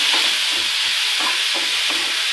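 Tomatoes and chillies sizzle in a hot pan for rasam, a steady bright frying hiss broken by several soft scraping stirs, close and alone without talk.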